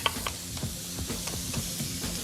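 Fresh ginger and garlic sizzle with pork in a pot, a steady loud frying hiss with repeated scraping stirs every half second or so, close and continuous with no voices.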